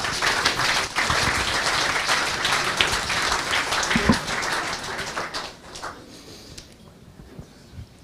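Steady audience applause at a startup pitch event, the clapping strong for about five seconds before tapering off into a few scattered claps and quiet.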